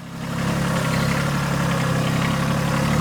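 A tractor engine idles steadily on a rural property, a close, continuous low rumble with a constant throb and no speech.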